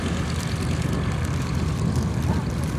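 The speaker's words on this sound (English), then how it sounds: "Taxiing down the runway now." A light aircraft taxis along the runway at Shoreham Airshow, its propeller engine droning at a steady, moderately loud level throughout with no pauses.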